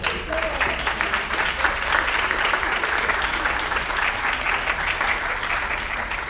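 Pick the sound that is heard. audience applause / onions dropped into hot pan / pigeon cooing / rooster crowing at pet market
audience applause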